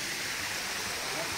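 Strong spring water at a resort in Bukidnon, Philippines, pours in a steady, loud, hissing rush, continuous and close with no breaks.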